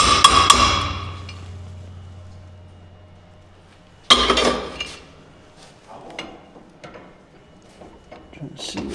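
Hammering a pin on a Model T pickup: sharp metallic strikes, a quick cluster at the start with ringing decay, then a harder blow around the middle followed by lighter scattered taps, close and loud.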